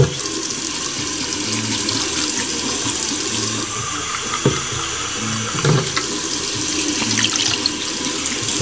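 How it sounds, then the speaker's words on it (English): Tap water runs steadily into a container while refilling a Crosley Playtime grandfather clock restoration tank, a continuous close splashing hiss with a few brief knocks and gurgles. "I can probably add just a little bit more water in there."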